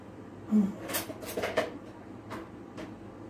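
Glass and metal clink in a few sharp taps, like a home-canned jar being opened and food spooned onto a plate, in a quiet room.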